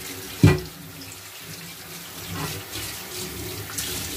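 Running tap water rinses a greasy grill toaster part at a sink, a sudden splash at the start giving way to a steady, moderate hiss of flowing water.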